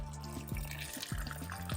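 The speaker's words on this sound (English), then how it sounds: "So we added some boiling water to that now." Boiling water pours and splashes steadily into a pot of Jamaican gungo pea soup, with liquid sloshing and bubbling close by, several short surges over the continuous flow.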